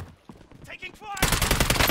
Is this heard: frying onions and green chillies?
no